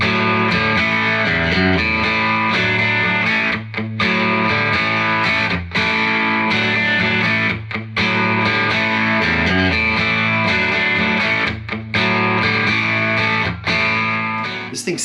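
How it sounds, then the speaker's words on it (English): A PRS Silver Sky SE electric guitar plays through heavy distortion, with thick sustained chords and riffs broken by brief rhythmic stops, loud and close with no talk. "This thing sounds awesome with distortion"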